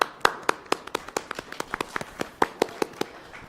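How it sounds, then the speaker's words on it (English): A small group at a live podcast recording at Nerdtacular 2017 clapping, a couple dozen distinct hand claps in a loose uneven rhythm, close and fairly sparse rather than a full roar. "A round of applause for yourselves."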